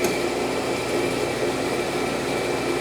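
The wheel head of a grinding machine running with a loud, steady mechanical hum and hiss that stays even throughout.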